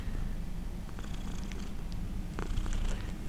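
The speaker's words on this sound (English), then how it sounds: "there's a cat on your lap that's wanting to bite the wire" A cat resting on a lap purrs steadily and close, a continuous low rumble with faint clicks and rustles over it.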